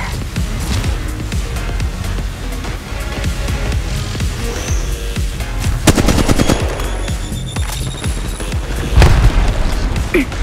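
Dense gunfire and explosions in the mobile battle royale game Apex Legends Mobile on the Kings Canyon map, with a grenade and thermite going off. Rapid bursts of shots run throughout, and heavier booms land around six and nine seconds.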